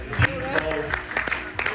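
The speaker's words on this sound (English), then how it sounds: "Big round of applause, guys." An audience at a Masters Cricket USA over-50 regional tournament event in Houston claps, with scattered, uneven claps at a moderate distance and voices talking through it.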